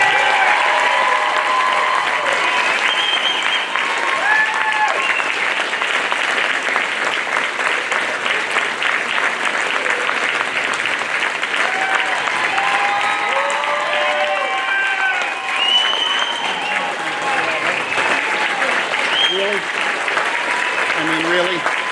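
Thunderous, sustained applause from a large conference audience welcoming the management staff of a DoubleTree by Hilton hotel, a dense, steady roar of clapping lasting throughout with scattered voices and cheers mixed in.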